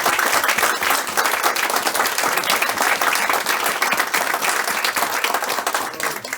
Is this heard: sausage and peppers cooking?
no